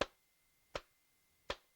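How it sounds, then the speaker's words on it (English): Three hand claps, sharp and crisp, evenly spaced about three quarters of a second apart, close and isolated against a quiet background with no talk. "I will give the magic 3 claps"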